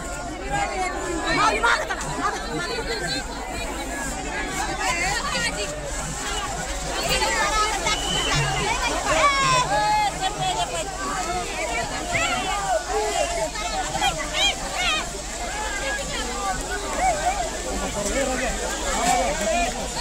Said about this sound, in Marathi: गर्दी जाम झालेली आहे